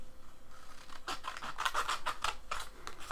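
Scissors cut through a sticker sheet in a quiet series of close, scratchy snips, speeding up into a quick rhythmic run after a soft start.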